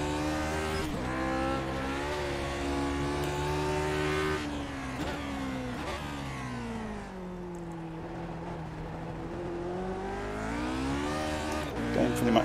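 A Lotus 49 Grand Prix car in iRacing at Circuit Zolder howls through its revs, the engine note climbing, dropping on downshifts and sweeping through gears, loud and close from the cockpit throughout.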